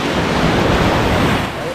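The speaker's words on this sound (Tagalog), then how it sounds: "May alon. May alon." Ocean surf rushes in as a broad, continuous wash of noise close to the microphone, lasting under two seconds, mixed with wind buffeting.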